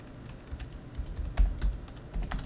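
Keys tapping on a computer keyboard as a Django project command is typed, a quick irregular run of clicks heard alone at close range, with a few louder key strikes toward the middle.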